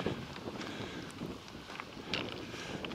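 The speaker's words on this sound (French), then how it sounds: "Vent du sud ce matin." A south wind buffets the microphone on a morning hike, a steady rushing roar with gusty swells throughout.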